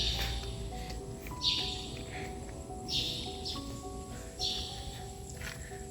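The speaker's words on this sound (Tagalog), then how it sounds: "so pinugaran na siya ng mga ibon maraming ibon sa loob" Many birds chirp inside an abandoned sunken church in Norzagaray, Bulacan. Bright, short calls come in several bursts over a constant hum of insects and room ambience.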